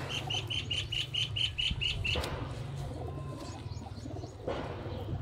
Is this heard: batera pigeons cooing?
yes